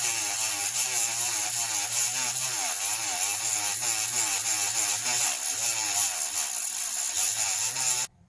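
A Dremel rotary tool whines steadily at close range while polishing a crystal stone wand, its buzzing pitch wavering slightly as the bit presses against the stone, then cutting off suddenly at the end.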